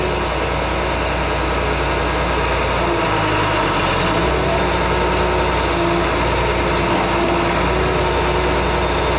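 A 2002 230B machine's engine runs loud and steady while its turntable is raised and lowered, a constant close drone with no pauses.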